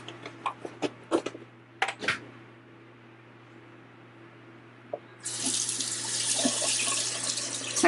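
Water running from a bathroom tap to wet a makeup sponge, starting after a few light clicks and taps and flowing steadily and fairly close until the end.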